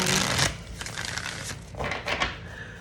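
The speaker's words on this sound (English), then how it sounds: "Let's shuffle these cards." Tarot cards are riffled and shuffled by hand in a few quick, close bursts of crisp papery flutter, separated by softer shuffling taps, with no talking.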